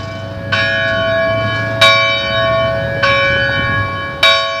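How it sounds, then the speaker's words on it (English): A church bell in Bangor tolls four times at a steady, slow pace, each strike ringing out and decaying over a low background hum. "Here we are every Wednesday ringing our bell."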